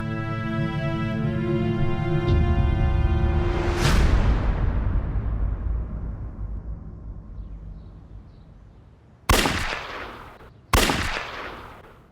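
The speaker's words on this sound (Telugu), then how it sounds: "ఇక్కడ 3 గన్ షాట్ సౌండ్ వినపడ్డాయి సార్" Three sharp, loud gunshots ring out over a swelling musical backdrop; the last two abrupt blasts follow close together near the end after things quiet down.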